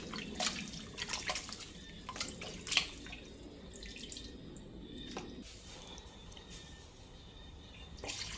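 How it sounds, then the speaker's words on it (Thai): Raw chicken rinsed in a bowl of water while preparing Thai steamed chicken with herbs: soft, scattered splashes and drips of handled water, fairly close but quiet, with no speech. "เติมน้ำลงไปอีกนะคะ แล้วก็ล้างเป็นรอบที่สองค่ะ"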